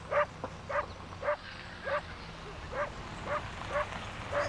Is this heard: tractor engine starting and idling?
no